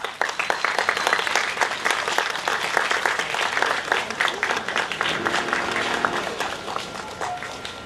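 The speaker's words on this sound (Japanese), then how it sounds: "拍手をお迎えください。" Steady crowd applause fills the air at a Japanese motocross championship podium ceremony, dense clapping sustained throughout, with a faint announcer voice and some music in the background.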